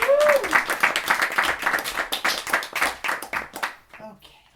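Audience applause for poet Jonie McIntire at a parlor poetry reading, a burst of dense clapping that tapers off and fades out near the end, with a voice briefly heard as it dies down.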